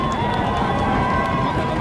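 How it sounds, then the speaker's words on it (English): A football crowd in the stands stomps its feet at a 2010 Boulder City versus Moapa Valley game, producing a loud, continuous drumming rumble that fills the space with no gaps. "stomp your feet."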